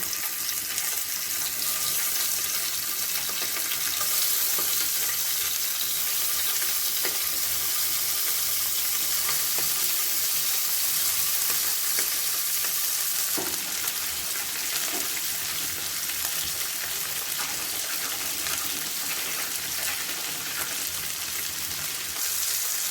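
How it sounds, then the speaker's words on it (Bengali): Tangra fish fry in hot mustard oil, giving a dense, steady sizzle that runs for the whole stretch at an even level. Faint spatters and a few light knocks come through now and then, with no voices. "তেলটা আমার গরম হয়ে গেছে, এতে আমি মাছগুলো ছেড়ে দেব।"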